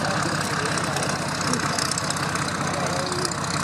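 Bristol Mercury air-cooled radial engine on a vintage aircraft at an air show, a steady, loud, rumbling drone held throughout with broad noise above.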